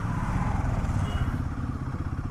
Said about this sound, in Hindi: तो हम सबसे पहले अपनी बाइक लेकर के निकल पड़े हैं